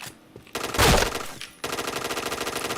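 Rapid automatic gunfire from a shooting video game bursts out in a sharp volley, then settles into a steady stream of evenly spaced shots close up.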